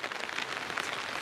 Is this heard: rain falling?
yes